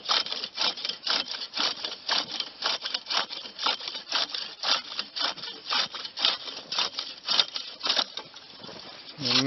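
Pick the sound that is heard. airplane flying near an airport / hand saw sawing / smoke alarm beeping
hand saw sawing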